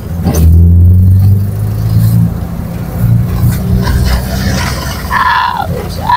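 A car engine revs and rumbles at a steady, loud level for several seconds, with a low droning tone and a brief voice near the end.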